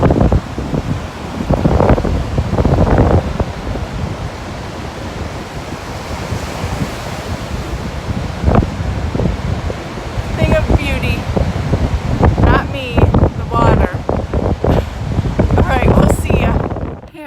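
Ocean surf rolls onto a beach on a windy day, heavy wind buffeting the microphone in gusts over the continuous wash of waves, with people talking intermittently nearby.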